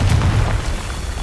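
A Confringo spell explodes in the video game Hogwarts Legacy: one deep, muffled boom at the start that quickly fades into a low rumble.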